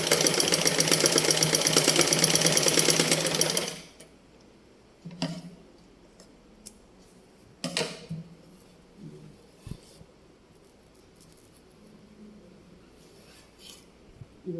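Sewing machine running steadily for a few seconds while stitching rough tacking stitches through cloth, then stopping, followed by scattered light clicks and handling noises in a quiet room.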